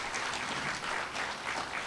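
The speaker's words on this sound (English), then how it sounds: "we should give these ladies and gentlemen a big round of applause for all the work that you guys do" Guests at an adoption reception give a round of applause, a full, continuous clatter of many hands clapping together, loud and uninterrupted for a couple of seconds.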